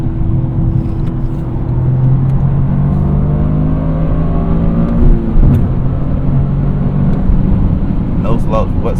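A Toyota GR Corolla's engine drones steadily while driving, the pitch climbing gradually under acceleration and dipping briefly before settling, loud and continuous from inside the cabin.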